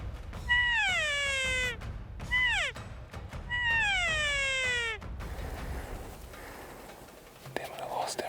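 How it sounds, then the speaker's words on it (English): Elk bulls bugling on a Colorado hillside, three rising-then-falling whistling calls in quick succession, fairly close, followed by rustling and faint wind. "We got bulls up above us that are making noise."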